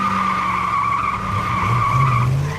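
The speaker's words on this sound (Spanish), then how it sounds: "el auto salió del sector del estacionamiento en dirección hacia mí" A car's tires squeal in a long, continuous, loud skid across a parking lot, the screech holding steady for a couple of seconds with engine noise underneath; no voices are present.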